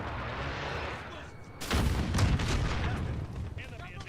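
Video game airstrike: a sudden loud broadband blast lands partway through, followed by a dense rumbling wash of booms and crackles over steady background game noise.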